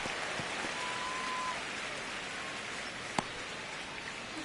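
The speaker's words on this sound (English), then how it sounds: "Like drizzling." Light drizzle falling during a baseball game, a steady soft hiss of rain with no talk over it and one sharp click partway through.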